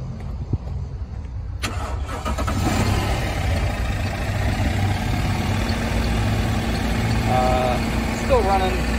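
A 2010 Mercedes E550 engine, its starter cranking before the motor catches and runs with an uneven, misfiring idle, loud and close throughout, with a few faint beeps near the end.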